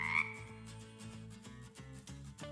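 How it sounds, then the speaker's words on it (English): A frog croaks in a repeated, rhythmic series of low pulsing calls, loud and close, in a children's counting activity with music-like tones around it and no speech. "wait a minute, you're not a rubber ducky, you're a frog."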